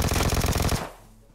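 Rapid automatic 9mm gunfire in the PUBG Mobile battle royale game, a loud, dense burst of shots lasting under a second that cuts off abruptly into quiet.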